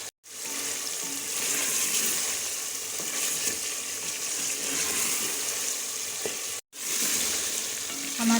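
Green chilies and ginger sizzle in hot oil in a chicken karahi seasoned with black pepper, a steady close crackle that runs unbroken apart from two brief pauses.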